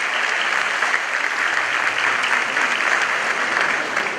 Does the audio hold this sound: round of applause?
yes